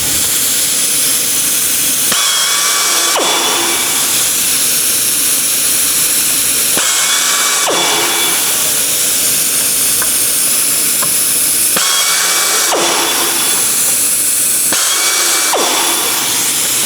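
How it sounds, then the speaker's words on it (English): Power drill fitted with an adjustable countersink bit, cutting countersinks into rivet holes in sheet metal; four loud whining bursts of a few seconds each, separated by brief pauses over steady background hiss. "And I will continue to countersink the rivet holes."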